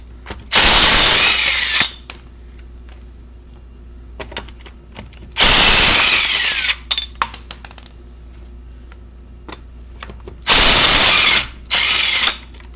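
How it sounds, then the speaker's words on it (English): Power impact tool removing car wheel lug nuts during a brake job, with several loud whirring bursts separated by pauses and clinks of the nuts and tools between them, close by and with no talking. "You're going to take off your lug nuts"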